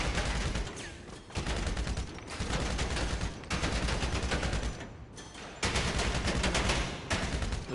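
Steady, loud volleys of gunfire at the bunker shooting range in GTA Online, firing continuously in dense bursts broken by brief pauses, with no talk.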